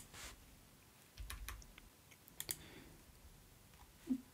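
Computer keyboard keys are pressed while working in Revit, producing a few scattered, faint clicks and taps in an otherwise quiet room, with no speech.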